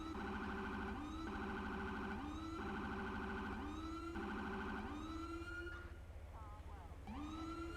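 A police siren from a FiveM game mod wails in loud repeating rising sweeps, then shifts briefly to a quicker yelp pattern near the end, dominating the scene.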